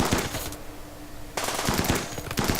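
Rapid automatic gunfire from a fight in the video game Rimworld, loud dense bursts that stop briefly and then resume in continuous volleys.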